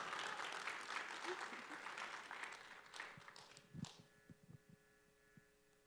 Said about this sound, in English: One last hand clap for our graduates.